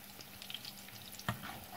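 Tofu sauce mixture for stuffed tofu in sweet and sour sauce sizzles softly in a pan while being stirred, with faint crackling and a single sharp scrape of the utensil.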